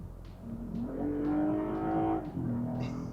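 A Toyota Mark X GS sedan accelerates hard from a rolling start, its engine note rising in pitch as it revs up, dipping briefly at a shift and then climbing again, loud and close with no talking.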